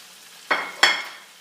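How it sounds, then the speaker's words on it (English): Shrimp dropped into a hot pan with softened shallots, two sharp bursts of sizzling a third of a second apart, each flaring loudly then fading, over a quiet background. "Now what I'm going to do is put the shrimp in."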